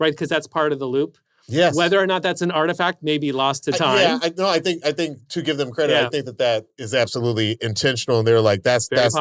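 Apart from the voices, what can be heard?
No everyday noise stands out behind the speech.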